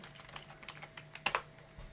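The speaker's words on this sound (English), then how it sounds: "I'm just going to enter my password here." A password being typed on a computer keyboard during a PyCharm install on a Raspberry Pi 4, a short quiet run of light, close key taps ending in two firmer presses.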